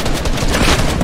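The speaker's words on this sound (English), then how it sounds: "Four rockets! Okay, I'm RPGing high." RPG rockets firing in Fortnite, a loud, dense burst of booming launches and explosions packed into about a second, close and harsh with no gaps.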